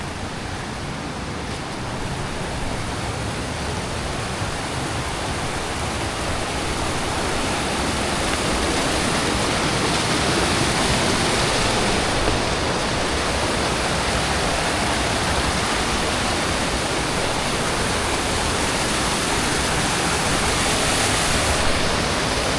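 A mountain waterfall in Kashmir roars as a loud, continuous, broad rush of falling water, steady and unbroken throughout, with no voices over it.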